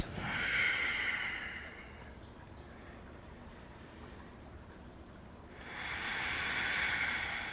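Slow, audible breaths during a beginner hatha yoga pose in a kneeling tabletop position: a long airy exhale, a quiet pause, then another breath rising, close and soft with no talking.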